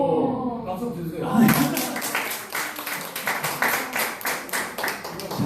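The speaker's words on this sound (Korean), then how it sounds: "박수 주세요" Audience applause at a book-writing workshop: after speech, a crowd breaks into clapping that begins near and loud and continues as a steady patter of many hands.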